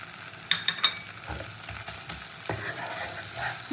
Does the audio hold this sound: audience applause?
no